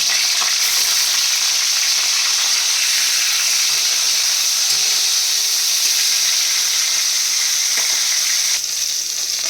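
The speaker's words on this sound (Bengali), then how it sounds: "প্রথমেই আমি ইলিশ মাছের মাথাগুলো ভালো করে ভেজে নেব" Hilsa fish heads frying in oil, a loud, continuous hissing sizzle filling the whole stretch with no pauses, a few faint clicks showing through and no voices.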